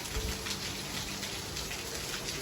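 Heavy morning rain falls steadily in a continuous dense hiss of drops on surfaces, loud and unbroken with no voices.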